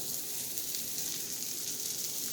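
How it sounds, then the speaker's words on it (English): A hamburger patty sizzles steadily in a pan as it cooks, a constant bright hissing crackle, close and unbroken, with no talking. "we're gonna let this burger cook"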